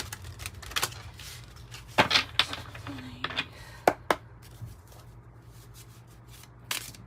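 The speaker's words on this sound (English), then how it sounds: "Let's keep on shuffling." Tarot cards being shuffled by hand at a reading, heard up close as irregular crisp snaps and riffling clicks in short bursts over a quiet background.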